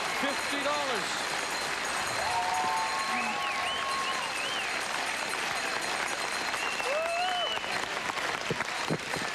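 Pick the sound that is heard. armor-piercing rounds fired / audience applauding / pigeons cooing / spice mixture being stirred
audience applauding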